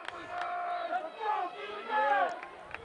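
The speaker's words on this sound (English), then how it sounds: "Big crowd here at Rocklin Stadium tonight." Large crowd noise at a night high school football game in Rocklin Stadium, a steady roar of many voices with rising swells, under a nearby announcer's play-by-play commentary.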